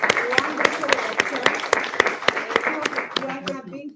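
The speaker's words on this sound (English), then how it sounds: "another round of applause for Professor Renga" A lecture audience at a distinguished university lecture series on Italian television claps after the talk, the claps fairly sparse and irregular, with a voice speaking over them before the applause trails off near the end.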